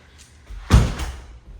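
A house door swings open or shut with a single muffled thud and a brief rattle, fairly close in a quiet room, followed by a short fading tail.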